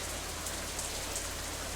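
Steady rain in the visual novel Katawa Shoujo, a dense even hiss of falling drops that holds constant throughout with no voices over it.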